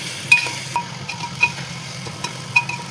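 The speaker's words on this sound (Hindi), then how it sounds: "इसको हिलाएंगे थोड़ी देर।" A spoon stirs a spiced pulao mixture of turmeric, cumin, coriander, garam masala and red chili in a cooking pot, giving light scraping strokes with faint clinks about once a second over a soft sizzle.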